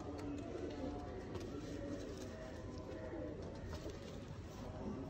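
Pigeons in a loft, among them a male with one cut toe kept with a female, cooing low and repeatedly in a dense, faint murmur of birds.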